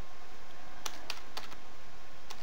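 A handful of quick clicks from a computer keyboard as a passphrase is typed, sharp separate keystrokes over a steady low hum.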